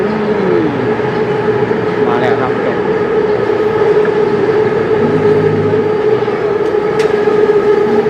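An electric train rumbles loudly past a rail junction in a busy tourist area, a continuous roar with squealing wheel tones and a brief horn-like wail, while someone talks briefly over it.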